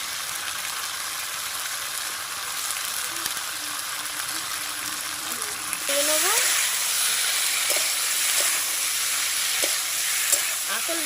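Potatoes with spices and onion stalks (onion greens) stir-fry in a pan with a steady sizzle, and utensil scrapes grow louder and more frequent in the second half, with no talking.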